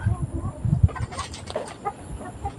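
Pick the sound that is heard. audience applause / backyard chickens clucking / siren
backyard chickens clucking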